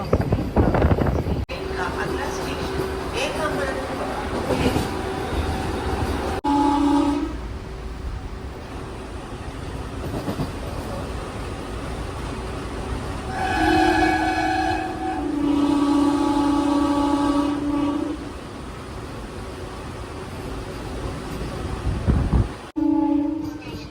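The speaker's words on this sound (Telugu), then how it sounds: "మన ట్రైన్ అయితే వచ్చి పుత్తూరుకి అయితే వచ్చింది" A train rumbles into Puttur station with a steady mechanical roar, its horn sounding in long tones midway, amid gusty wind noise.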